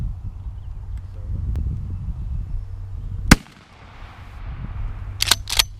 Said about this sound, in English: for our last test round is Heavy Shot Heavy 13, and it is a number 4 shot.